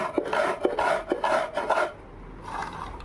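Cream biscuits, including orange-flavoured ones, are crushed with a rolling pin on a board: close, rhythmic rasping and crunching strokes for about two seconds, then a softer scraping.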